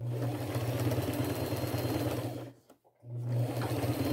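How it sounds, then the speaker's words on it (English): A sewing machine runs a wide zigzag stitch in gold thread along the edge of a denim jean jacket being made into a vest. The motor hums steadily, pauses briefly, then starts running again. "I'm going to take it to my machine with a gold colored thread and my largest zigzag stitch."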